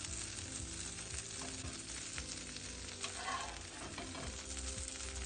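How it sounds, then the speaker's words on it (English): English muffin halves toasting in melted butter in a pan give a steady, moderate buttery sizzle throughout, with faint background hum and no talking. "I've added a little chunk of butter. This is to slightly toast the English muffin."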